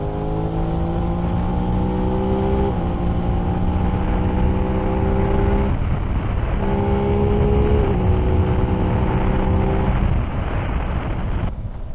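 Aprilia RS660 motorcycle engine pulling hard under steady throttle during an overtake, a loud sustained harmonic drone that steps up through gear changes, dipping briefly mid-pass before climbing again, wrapped in heavy wind rush.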